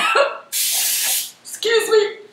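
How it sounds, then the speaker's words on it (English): Two short bursts of Pam cooking spray hiss into a mug, the first longer and the second brief, with a voice before and after. "I'm gonna spray this with Pam so the cake doesn't stick"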